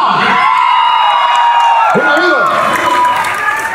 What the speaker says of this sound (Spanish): vamos a recibir por favor con un fuerte aplauso a mi amigo Oscar Roa